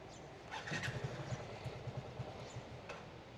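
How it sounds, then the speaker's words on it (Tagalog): A motorcycle engine is cranked repeatedly without catching, a quick train of low starter thumps and sputters, close and fairly quiet against steady outdoor background noise, with no voices. "Ayaw bumukas ng aking motor."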